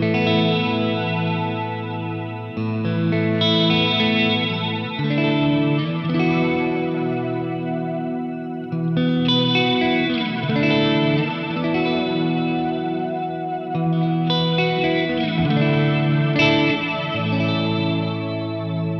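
Electric guitar played through an MXR reverb pedal on its pad algorithm, sustained chords blooming into lush shimmering washes with octave-up and octave-down layers and slow modulation, several swells continuing without pause, no voice.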